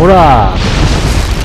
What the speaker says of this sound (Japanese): このさ、360度の大砲をもう360度ぶっ放していきたいんだけどな、本当。